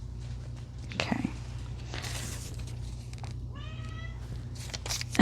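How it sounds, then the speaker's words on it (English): A house cat begs for a blueberry bagel with a single clear, drawn-out meow partway through, set among soft rustling, faint shuffling and low room hum. "And that is my cat begging for a blueberry bagel."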